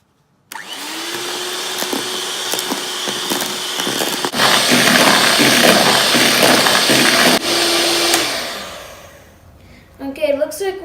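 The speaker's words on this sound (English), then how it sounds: "And we will mix it again." An electric mixer whirs steadily as sugar is beaten into batter for Valentine's Day fortune cookies, a loud even motor drone with a brief dip midway that winds down near the end before a voice speaks.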